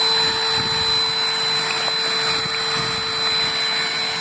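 A Hommak HM611 cordless handheld vacuum cleaner runs with a constant high motor whine and airy hiss, close and loud, steady for the whole stretch with no voices.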